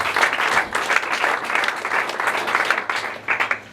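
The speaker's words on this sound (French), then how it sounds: "Applaudissez pour vous-même, s'il vous plaît." An audience applauds at a 40th anniversary celebration, a dense, steady burst of clapping lasting a few seconds, close and fairly loud, with no talking over it.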